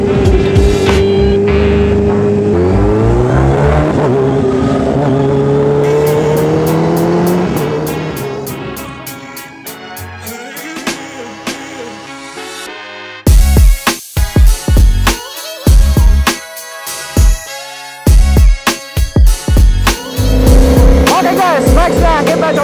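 A Kawasaki H2 motorcycle with KTRC traction control at level 1 accelerates hard, its engine climbing through rising, stepped gears, then bursting into sharp, choppy revs and loud blips, with no talk over it.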